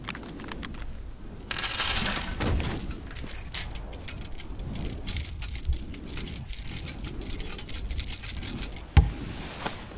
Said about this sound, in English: I wanted to make a very dull swooshing effect as if plastics and things were moving around